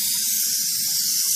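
Aerosol spray paint can spraying a steady, loud, continuous hiss close up, with no pauses for the whole short burst.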